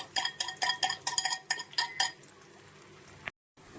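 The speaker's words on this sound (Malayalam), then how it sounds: "നമ്മൾ അതിലേക്ക് കുറച്ച് എണ്ണയും കൂടി ഒഴിച്ച് ഇനി നമുക്ക് ഇതൊന്ന് ചിക്കിയെടുക്കാം" Beaten eggs sizzle and scramble in oil in a pan for a Kerala thoran, with a fast run of sharp utensil scrapes and clinks against the pan that stops, leaving a quiet sizzle.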